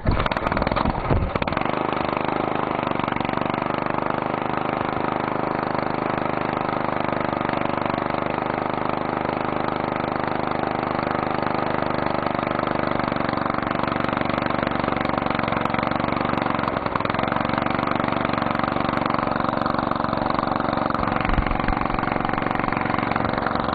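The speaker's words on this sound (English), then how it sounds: "Okay, now we're running on wood gas." A small engine runs on wood gas from a charcoal gasifier, idling with a steady, even drone for over twenty seconds, close and constant with no talk.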